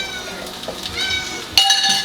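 A cat in a home kitchen gives a couple of clear, close meows, with a light clink of dishes or utensils in the background.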